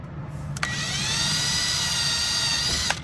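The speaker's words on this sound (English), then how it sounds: "all we're doing is just going to drill the top of that piece of the rivet off" A drill bit grinding the head off a rivet, a steady close high-pitched whine of about two and a half seconds with a sharp bite at the start and at the finish, no talking.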